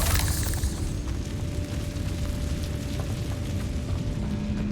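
Confringo blasting spell explosion in Hogwarts Legacy, a burst at the start followed by a steady rumbling, noisy roar that continues to the end, with no talking.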